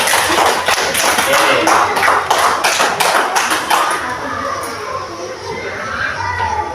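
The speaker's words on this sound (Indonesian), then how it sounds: "Tepuk tangan dulu untuk Dika dan Hairul." Elementary school students in a classroom clap for classmates who have just presented, a burst of scattered, loud clapping mixed with children's chatter that fades into noisy room talk.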